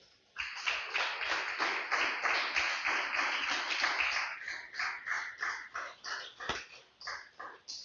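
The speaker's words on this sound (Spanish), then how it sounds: "Denle un fuerte aplauso al Señor, aleluya." A church congregation claps loudly and evenly in a rhythmic burst of applause during a worship service, fading into looser, slower claps toward the end.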